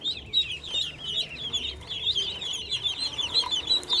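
A flock of about fifty pet ducklings peeps and chirps constantly as they are set into their new pen, a dense, close chorus of high cheeping with soft shuffling and faint background noise.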